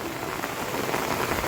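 Heavy rain falls in Junagadh as a steady, dense hiss of drops on surfaces, constant and fairly loud, with no voices, cutting off abruptly at the end.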